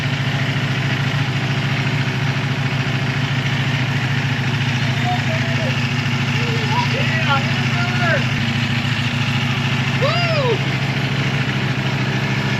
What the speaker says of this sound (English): That is a loud bike.